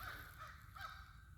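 A few crows calling far off during a spring nature walk, two or three faint raspy caws over quiet outdoor ambience.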